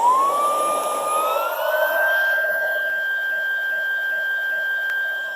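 A GleeU GEV1 cordless vacuum cleaner running under a couch, a loud steady high-pitched motor whine that rises in pitch over the first two seconds and then holds constant, with no talk.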